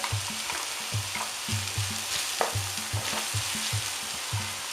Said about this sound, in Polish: dodajemy mięsko, przesmażamy, dodajemy cebulkę, marchewkę